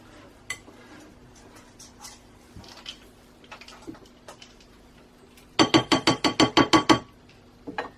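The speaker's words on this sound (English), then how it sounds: "And then scrape down your buttercream bowl." A spatula works around a bowl of buttercream: quiet scattered ticks and taps, then a quick burst of about ten sharp clacks against the bowl near the end, with no voices.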